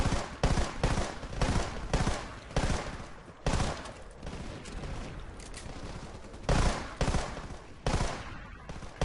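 Rapid, loud bursts of MK5 submachine gun fire in a shooter video game, short volleys repeating close together over several seconds.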